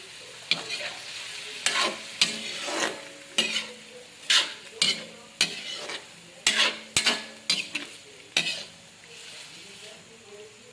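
Dried fish (tuyo) with soy sauce fries in a pan for a drinking snack, under a sharp spatula scraping against the pan in a quick irregular rhythm over a light sizzle, near and fairly loud.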